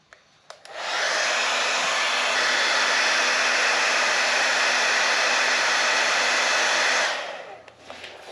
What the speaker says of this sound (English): I'm not worried about warping or discoloring the plastic since it's just a hair dryer.